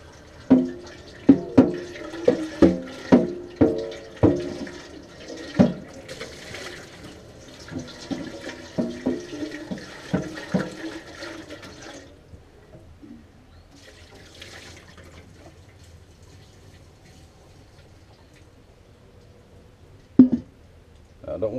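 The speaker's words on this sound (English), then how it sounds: "I'm just going to rinse this out." Running water splashes and sloshes as a container used for rendering deer tallow is rinsed, with uneven bursts of pouring that trail off into quieter trickling and a final splash.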